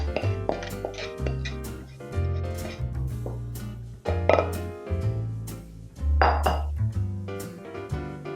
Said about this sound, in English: Once you're done mixing your sugar, egg and oil, you can mix it into the mashed banana